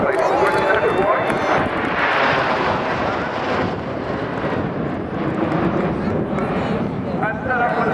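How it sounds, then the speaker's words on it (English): Red Arrows jets flying a tight formation display at an air show, a loud sustained roar of jet engines that swells and washes over the crowd, with a commentator talking over the noise. "That's how we fly a nice, rigid Apollo twister."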